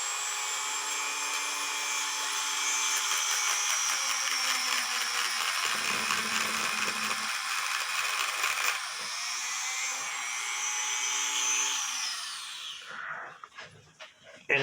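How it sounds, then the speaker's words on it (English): A Dremel rotary tool and a power drill run at the same time, spinning a workpiece together to grind a tapered point, giving a steady, loud high-pitched whine with shifts in pitch that winds down and stops near the end. "turning the Dremel on and turning my drill on at the same time"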